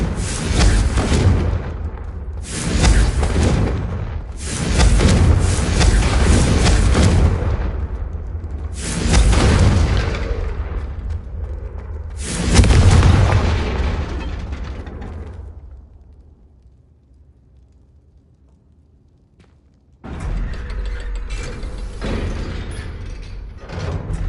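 Spell blasts from the Confringo fire spell in Hogwarts Legacy: several loud, booming bursts in quick succession with crackling tails, then a quiet lull before another burst of noisy combat sound.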